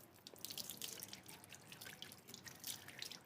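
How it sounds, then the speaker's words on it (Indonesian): Water poured onto an Aglaonema Big Apple top cutting in cocopeat until it drains makes a steady, soft patter and trickle of dripping liquid that carries on throughout. "langsung kita siram aja seperti biasa sampai ngocor"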